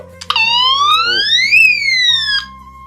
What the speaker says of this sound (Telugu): ఈ సైరన్ అయితే అందరికి వినిపించి